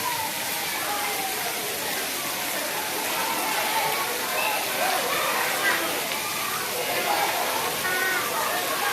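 Heavy rain pours down steadily over a town in Rasipuram, a dense, even hiss of water on the ground that keeps on throughout, with voices faintly audible in the background.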